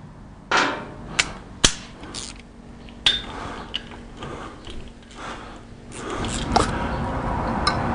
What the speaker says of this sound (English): What I have here is just a regular ratchet wrench and a plug socket.